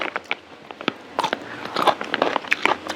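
Crunchy spicy Chinese-style bamboo shoots being bitten and chewed close up, with irregular sharp crackling crunches that grow denser and louder over a few seconds, no talking.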